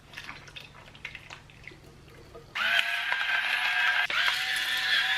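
Coconut milk from a tin is poured into a slow cooker, starting after a quiet stretch of faint clinks and becoming a steady, close liquid pour that briefly dips and then continues to the end, with no talking.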